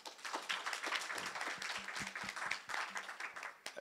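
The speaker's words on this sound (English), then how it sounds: "let's give them a round of applause first." An audience at a Connected Summit 2016 conference session gives a round of applause, heard as moderately loud, fairly sparse individual claps with a slightly uneven rhythm.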